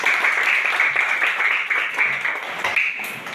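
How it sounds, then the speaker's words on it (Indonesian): Classroom applause from schoolchildren at the end of a lesson, a steady patter of many small hands that fills the whole clip at a moderate level, with a few taps standing out. "mari kita berikan tepuk tangan"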